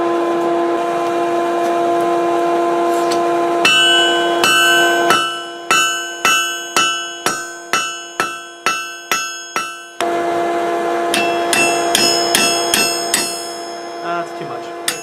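Steel bar being hammered to taper a rivet for blacksmith tongs, loud ringing anvil blows in a steady rhythm of about a dozen strikes, then another quicker run of hits, with a hum before them.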